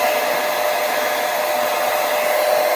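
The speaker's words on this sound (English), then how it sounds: "So I'm going to just blow dry this." A hair dryer blows steadily on hair being styled for curls, a continuous loud, even whoosh with no talking.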